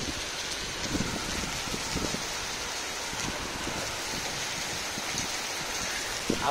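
Rain falls steadily as a constant, soft hiss with scattered patter, fairly faint and even, with no voices.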